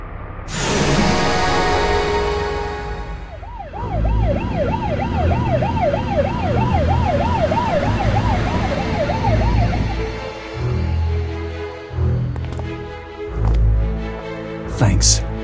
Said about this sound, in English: An ambulance is on its way.